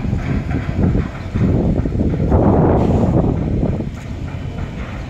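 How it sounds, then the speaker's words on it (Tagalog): Strong wind at Talao Talao Port buffets the microphone in heavy, rumbling gusts that rise and fall, loudest in the middle, with no talking. "Ang lakas po ng hangin mga kabibs."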